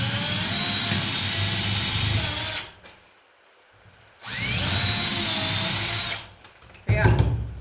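An old power drill with a worn chuck whines loudly in two long bursts, separated by a short pause, then gives a brief final rev.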